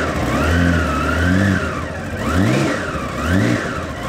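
An Austin Healey car engine revs up and down repeatedly at a hill climb race, nearby and loud, the pitch rising and falling in several quick surges.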